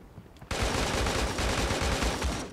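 Rapid automatic gunfire bursts in the battle royale video game Creative Destruction, a dense loud stream of shots starting abruptly after a brief quieter lead-in and continuing to the end.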